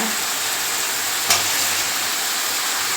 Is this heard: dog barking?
no